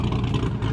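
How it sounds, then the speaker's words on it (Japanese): A Chevrolet Corvette's engine gives a short, deep, throaty rumble at close range at a car gathering in Texas, heard for under a second. "このコルベットはいい音してます。"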